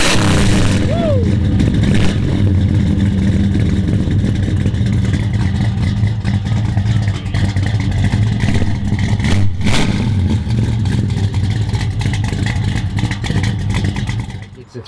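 A 1968 Plymouth Barracuda with an original 1969 340 block built into a 372 stroker and a 750 Holley carburetor, its loud rumbling engine idling and revving close by, with a sharp burst near the middle and sound cutting off at the end.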